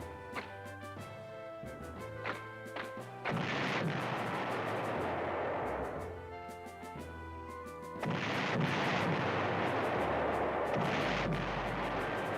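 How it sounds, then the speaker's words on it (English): Artillery strikes from the PlayStation 1 game Panzer General, heard as deep booming blasts with long rumbling tails that come in two heavy bursts over a low musical background. "Wow, that was an effective artillery strike."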